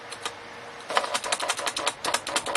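A Brother BP-30 typewriter plotter prints on plain paper, giving off a fast run of sharp mechanical clicks and taps, sparse at first and then dense and rhythmic, up close with no voices.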